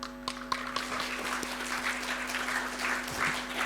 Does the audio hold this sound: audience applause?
yes